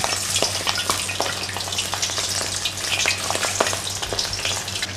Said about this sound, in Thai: เราใช้ทอดสองรอบ